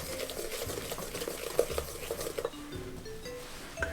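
Sesame cookie mixture with vanilla is stirred in a pan, giving a steady scraping and clinking of utensil against metal with faint frying crackle underneath, close and continuous, with no talking.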